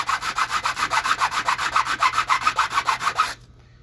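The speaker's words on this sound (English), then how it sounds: "And you can use the grinder, see how fast that's coming down." A power grinder wearing down the plastic top of a sunken Nelson pop-up sprinkler, a rapid rhythmic rasping close up that holds steady for about three seconds and then cuts off abruptly.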